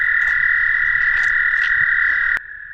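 Spring peeper frogs call outdoors in a dense, shrill chorus that merges into one continuous high trill, loud and close, cut by a sharp click near the end.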